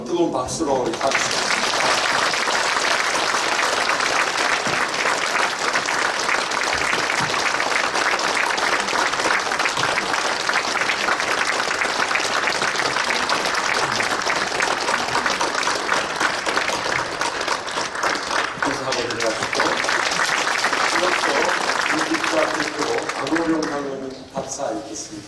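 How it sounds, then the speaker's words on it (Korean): Sustained applause from a church congregation during a retirement and ordination ceremony honoring elders, dense and steady for about twenty seconds before tapering, with voices talking over it near the end. "뜨거운 박수로 우리 박수"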